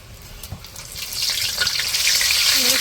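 Aloo chop, battered potato fritters, dropped into hot oil raise a sizzling hiss that swells and stays loud and steady near the end, alongside a faint watery gurgle.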